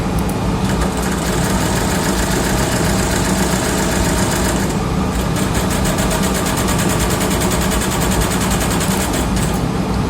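An electric motor under direct torque control runs steadily at close range, its tone shifting around the middle as positive and negative torque steps are switched, with no voices.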